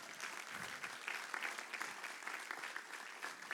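A church congregation applauds steadily during a Sunday morning service, dense sustained clapping at moderate distance with no voices over it.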